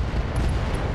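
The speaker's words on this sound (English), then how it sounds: "Straight into a UAC-5 ammo explosion." A UAC-5 ammo explosion in the RogueTech mod of the BattleTech video game gives a dense, loud, continuous roaring blast with no talk over it.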